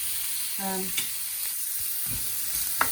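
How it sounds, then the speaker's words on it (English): Steady sizzling hiss of onions frying in hot oil, with a few soft clinks and stirring scrapes close by. "As you can tell by the sound of the onion going in."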